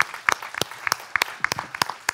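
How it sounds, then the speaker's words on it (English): Modest applause for Tommy after his pitch at the Medicon Valley Microbiome Pitch Day, a thin crowd of distinct, irregular claps that stays moderately quiet. "So please give Tommy a big round of applause."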